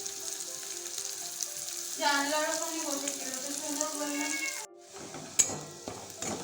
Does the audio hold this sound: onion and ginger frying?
yes